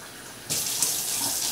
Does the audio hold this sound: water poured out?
yes